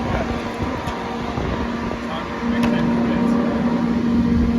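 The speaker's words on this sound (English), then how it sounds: "Probably can't hear you. The dryer's pretty loud." A steady, loud mechanical drone with a constant low hum fills the clip, growing slightly louder partway through, like a clothes dryer running close by.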